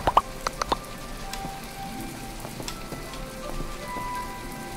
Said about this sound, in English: I know I'm stopping you out in the rain